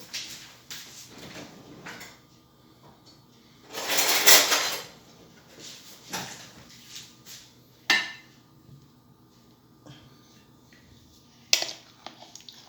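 Kitchen utensils being handled while homemade unripe-grape (koruk) vinegar is prepared: one loud rattling clatter, then scattered sharp clinks and knocks of cutlery and dishware in a quiet room, with no talking.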